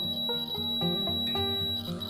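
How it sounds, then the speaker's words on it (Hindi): A multimeter's continuity test on the UV lamp terminals of a water purifier gives a steady, unbroken high-pitched beep that runs throughout, with softer tonal sounds underneath. "आप सुन पा रहे हैं कि आपको बीपिंग साउंड आ रहा है"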